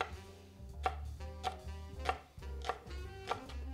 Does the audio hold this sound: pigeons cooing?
no